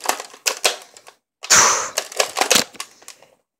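Bullets are pushed into a toy gun during a reload. Sharp plastic clicks and snaps come close up, with one brief rattling burst in the middle, then several more quick clicks.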